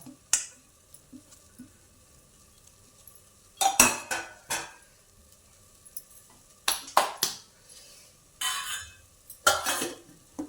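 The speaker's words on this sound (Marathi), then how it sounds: "त्या डब्यामध्ये आपल्याला किसलेला भोपळा टाकून घ्यायचा आहे" Grated bottle gourd tipped into a container for cooking in a kitchen: scattered clinks and scraping bursts from a utensil against the container, in several short separate clusters with quiet gaps between.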